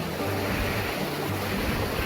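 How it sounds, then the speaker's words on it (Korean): Strong ocean waves crash and surge continuously on a rainy day at the shore, a loud dense roar of surf and wind noise with no break. "파도가 너무 셉니다."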